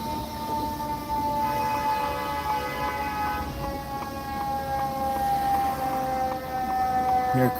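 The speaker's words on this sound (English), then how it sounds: "Here comes the Chicago Fire Department, ambulance 46." A Chicago Fire Department ambulance wails its siren on a city street, a sustained tone with a slow rise and fall over steady traffic noise.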